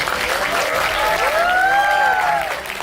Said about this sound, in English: Big round of applause to you also.